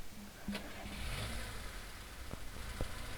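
A car engine runs steadily and close by, a low continuous hum with a couple of short knocks or clicks near the end, and no talking over it.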